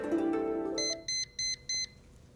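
A cooking thermometer gives four short, bright electronic beeps in an even rhythm as a roasting chicken reaches temperature, right after a fading tonal hum, clear and close in a quiet room.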